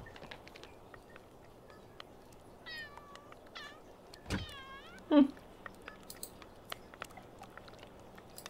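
A cat in the Sims 2 video game meows a few times, some drawn out, alongside soft clicks and a brief thump, with quiet background noise throughout.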